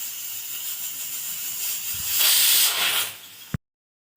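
Peas and potatoes boiling together in a pot while cooking ghugni and masala potol, giving a steady close steam hiss that swells louder midway before cutting off abruptly near the end.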